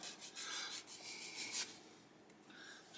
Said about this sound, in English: So you will get them up nice and close, and then just sand off the rest.